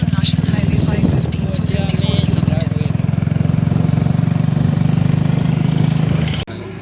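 A motorcycle engine idles at the roadside on a ride through Arunachal Pradesh, a loud, steady low rumble close by that cuts off near the end, with someone talking over it.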